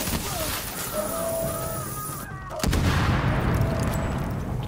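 Gunfire from a gun in Tom Clancy's The Division, a sudden loud burst of rapid shots that cuts in midway and continues as a dense, sustained clatter over the game soundtrack.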